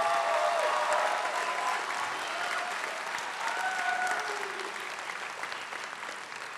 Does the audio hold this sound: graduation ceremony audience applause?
yes